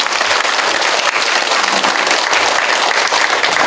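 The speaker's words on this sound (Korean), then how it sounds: "힘내시라고 다시 한번 큰 박수." Loud, sustained clapping from a crowd at a city mayor's New Year community visit in Icheon, honouring local council members; thick and continuous from start to finish with no talk over it.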